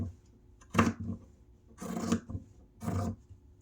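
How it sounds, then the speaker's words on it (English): Pinking shears trimming fabric for chair cushions, three separate rasping snips spaced about a second apart, close and fairly quiet against a hushed background. "Here's my pinking shears, and I'm just trimming it all up."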